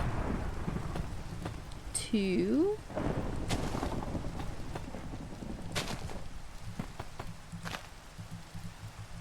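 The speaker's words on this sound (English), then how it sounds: "And also, it's dark and raining." Steady rain pours in the video game Minecraft, with a deep thunder rumble near the start and a soft person talking briefly beneath the storm.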